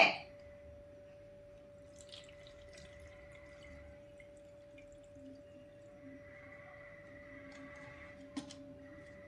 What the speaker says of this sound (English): Next process is pour this decanted water through filter in glass Z.